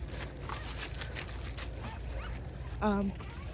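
At least ten dogs bark and yip at a distance under faint background noise, with one sharper, closer yelp near the end.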